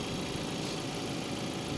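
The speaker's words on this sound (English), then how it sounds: "This is your basic Ecotec engine." A Chevy HHR's Ecotec engine idles quietly, a steady, even hum with faint vibration that holds unchanged throughout, alone with no voices.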